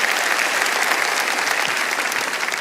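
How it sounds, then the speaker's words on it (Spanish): A church congregation applauds loudly and steadily, a dense wash of clapping from many hands filling the whole stretch with no pause. "Alguien tiene que aplaudir más que eso si lo crees."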